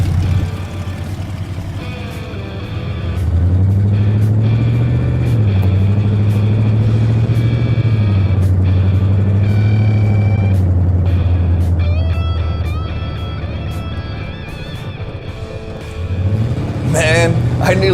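A monster truck built in Davao City drives with a deep engine rumble that swells, holds and dips as it accelerates and slows, while people talk over it.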